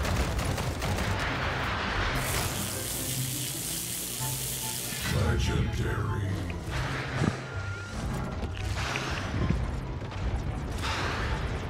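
Gunfire in the video game Jurassic Monster World: dense bursts of rapid shots and crackling blasts, loud and continuous, with a voice speaking under the noise.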